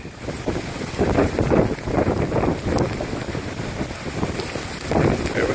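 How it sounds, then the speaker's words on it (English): Hurricane wind gusting hard through trees in Clermont, Florida, a loud, roaring rush that swells and eases in waves with heavy buffeting of the microphone. "There we go. Here's another gust."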